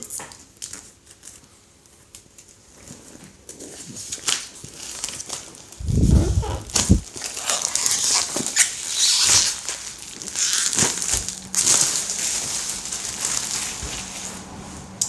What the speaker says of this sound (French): on y va on déballe ça